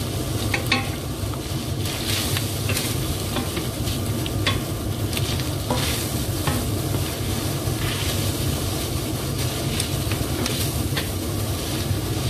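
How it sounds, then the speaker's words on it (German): Chopped carrots and celery stirred into minced meat frying in a pan for lasagne bolognese, with steady sizzling and scraping stirs close by throughout, no talk. "Mein geschreddertes Gemüse oder gehäckseltes Gemüse kommt jetzt in meine Hackfleischpfanne."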